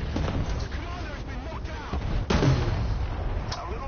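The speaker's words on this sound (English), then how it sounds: "he's just firing his shells" Sherman tank shells firing in an American tanks and planes combat video game, with heavy booming shots over a steady rumble of battle noise while someone talks over it.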